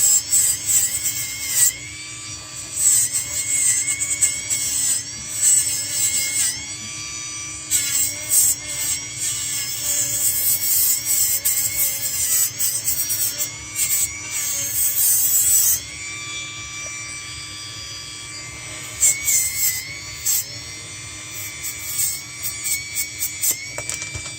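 A rotary dental tool whines and grinds while trimming and polishing the plastic edges of an Essix retainer, in close, uneven passes with short pauses and pitch shifts.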